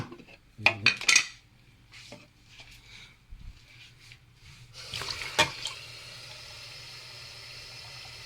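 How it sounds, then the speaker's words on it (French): A few clinks of a Nespresso machine's plastic parts, then steady water pouring into its reservoir, a soft continuous splashing that fills the last few seconds up close. "je vais rajouter de l'eau, je préfère. Donc je prends juste, je remplis de l'eau."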